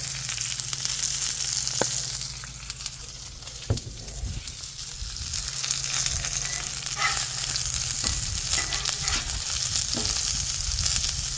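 Chicken pieces and vegetables frying in a pan, seasoned with Badia Sazon Tropical, give a steady close sizzle throughout with a couple of brief knocks from a utensil; nobody speaks.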